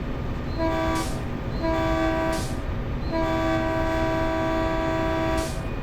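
EMD locomotive horn in the Train Sim World game sounds in three long, loud chord blasts with short gaps between them, over a steady rumble of rolling train.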